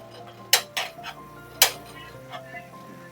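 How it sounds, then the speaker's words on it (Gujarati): Metal spatula tapping and scraping on a flat tava while pav bhaji is mashed and mixed, giving a few sharp clinks, two louder near strikes and softer taps, over a faint steady hum. "આની અંદર આપણે આવી રીતે મેશ કરી બધું મિક્સ કરી એક સતળવા દેવાનું છે"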